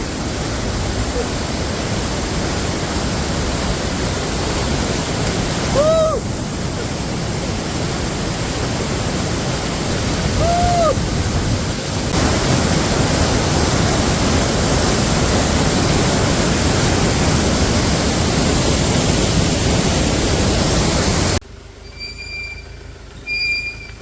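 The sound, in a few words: waterfall at a viewpoint in Coorg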